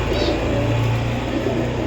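Low, soft cooing of Saharanpuri pigeons close by, a steady murmuring coo over a constant background hum.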